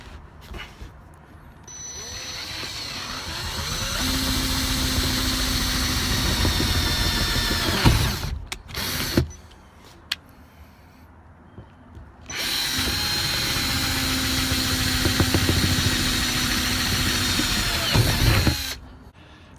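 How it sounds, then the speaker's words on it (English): Two long bursts of a power drill whirring steadily under load as it drills holes in metal on a Ford Bronco, separated by a short pause with brief starts and stops, close and loud. "The next step is to drill some holes."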